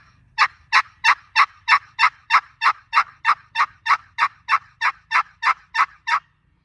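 A wooden box call produces a steady run of about sixteen raspy, evenly spaced yelps imitating a hen turkey, close and clear against quiet.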